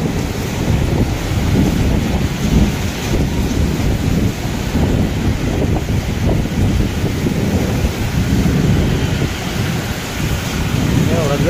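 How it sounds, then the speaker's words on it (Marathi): A heavy thunderstorm with strong wind and pouring rain roars steadily around the microphone, with deep rumbling and gusty buffeting that never lets up; no one speaks. "एवढा जबर पाऊस म्हणजे काय."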